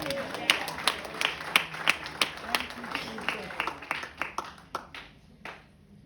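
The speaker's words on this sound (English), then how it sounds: "if you believe that, give Jesus a good clap" A church congregation clapping during a sermon, with loud, fairly rhythmic claps at first that grow sparser and fade out toward the end, and a few voices underneath.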